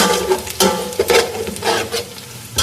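Onions frying in a pan with bay leaf, cinnamon, star anise, cloves, black pepper and cumin for beef or mutton pulao, a crackling sizzle broken by several sharp stirring scrapes, close and without speech.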